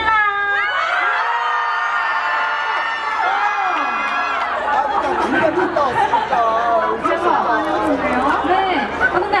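A crowd of university students at a Baekseok University festival screams and cheers. A single amplified voice comes first, then a dense, rising wall of overlapping shouts and whoops fills the rest.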